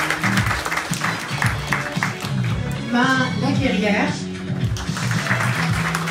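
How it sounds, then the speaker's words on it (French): Audience applause for team members at an association launch evening, clapping running under a speaker's voice, with the talk dominating over a moderate crowd clap. "Donc je vais vous demander d'applaudir Amélia Trari"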